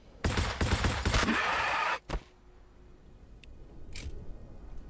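Ork units open fire in Warhammer 40,000, a dense burst of rapid gunshots that rattles for about two seconds, ends with a sharp crack, and gives way to quiet ambience with a few faint clicks.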